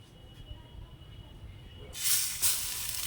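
Food dipped into shallow hot oil in a home kitchen, a faint background hiss that bursts into a loud sizzle about two seconds in and surges again shortly after.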